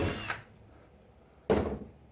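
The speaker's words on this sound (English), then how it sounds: "going to pre-drill this here up through the rafter" Two short bursts of a power drill pre-drilling up into a wooden rafter in a basement, the first at the start and another after a quiet pause, close by.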